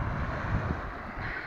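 Strong wind buffets the microphone in a steady low roar on the shore at Berdyansk, with a faint wash of sea in the background and no voices.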